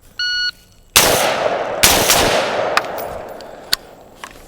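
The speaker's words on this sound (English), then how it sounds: "last shots with the rifle for the day" A Daniel Defense DDM4V7 AR-15 rifle fires outdoors, preceded by a short electronic beep. Three loud, sharp shots follow, spaced about a second apart with ringing decay, then a few fainter distant pops.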